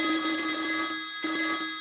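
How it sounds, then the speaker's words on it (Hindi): A telephone bell rings continuously, a bright metallic trill with a brief break partway through, fairly close and steady. "फोन की घंटी खनखनाने लगी।"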